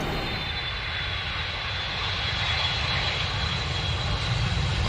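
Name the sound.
airplane engine during flight to Easter Island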